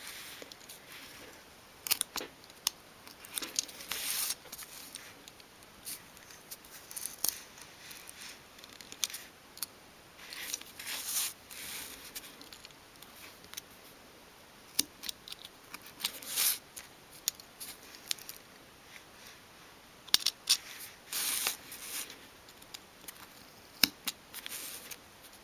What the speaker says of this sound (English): Turn the piece like that and cut along there.